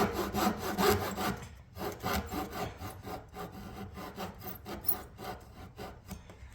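Hand saw cutting through a wooden framing piece for a screen porch panel, steady back-and-forth rasping strokes up close and fairly loud, with no talking.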